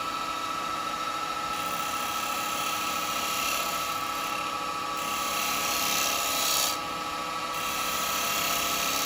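A chisel cuts maple on a woodturning lathe in one pass, a steady loud whirring drone of the spinning workpiece with a rising rub and scrape where the tool bites, and no talk.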